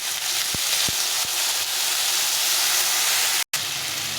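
Pumpkin and taro curry with chilli, cumin and turmeric simmers in water, giving a steady close hiss and bubble with a few soft knocks and no voices.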